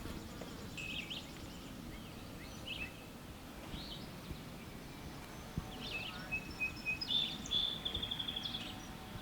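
Birds sing outdoors at a ranch, faint scattered chirps and short warbling phrases over a low rustling, insect-like buzz, growing a bit busier toward the end.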